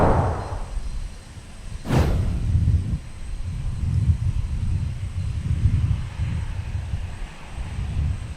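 A Boeing 717 airliner at Minneapolis–St. Paul Airport gives a steady jet engine rumble, with a sharp whooshing burst near the start and then a continuing low roar.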